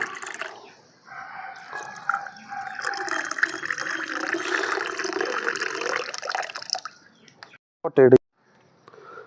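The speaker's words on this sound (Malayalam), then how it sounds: "ഇപ്പോൾ വെള്ളം ഫില്ല് ചെയ്ത് കൊടുക്കുകയാണ്" Water poured steadily into a container to make a Kerala-style energy drink, a continuous rushing fill that rises slightly in pitch for several seconds, followed by a brief knock and quiet.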